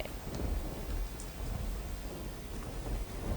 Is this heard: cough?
no